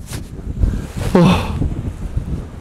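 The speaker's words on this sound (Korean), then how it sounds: "지금 바람이 엄청나게 불고 있습니다" Strong wind gusts buffet the microphone at an island campsite by the sea, with surf in the background; a brief voice-like sound rises over the roaring, uneven wind midway.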